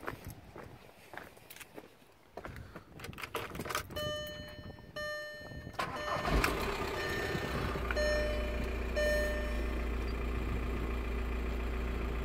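A VW T5 campervan engine cranks and catches after some shuffling and beeping, then settles into a steady low idle rumble that carries on to the end, close by with no talking.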